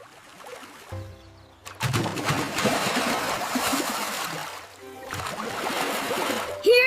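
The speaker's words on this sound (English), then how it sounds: "Here comes another big splash." A big splash in a swimming pool, heard as a broad rushing wash of water that builds, fades, and surges again, with voices speaking across it.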